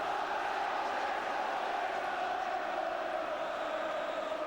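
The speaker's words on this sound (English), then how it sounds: "you can hear what the crowd feel about it" Football stadium crowd in a Manchester City match, a dense, sustained roar of many voices that holds steady and loud from start to finish.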